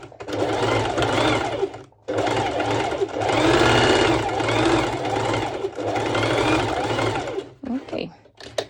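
A sewing machine stitching fabric for a one-shoulder twisted knot top runs close and steady in long bursts with a brief pause between them, its motor whirring loudly.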